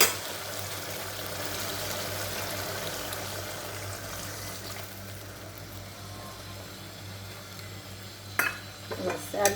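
Hot water poured into a pan of sizzling egg curry, a steady close frying hiss with stirring throughout, ending in a few sharp clinks of a utensil against the pan.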